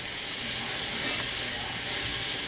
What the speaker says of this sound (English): Stir those around. You got some garlic, I got mushrooms, I got onions, got everything in there.